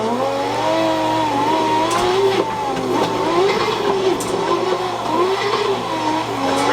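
A car engine in a drifting video game drones steadily as the car accelerates away, its pitch rising and falling in loud, continuous waves with no pause.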